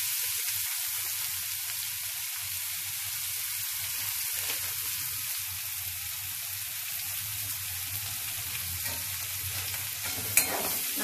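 Chopped ivy gourd sautéing in a pan with a steady, even sizzle and faint stirring, and one brief clink near the end. No speech.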